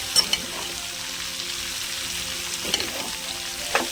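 Potato and cabbage curry fries in a pan with a steady, close sizzle, broken now and then by faint scrapes and taps of a stirring spoon, and no one speaking.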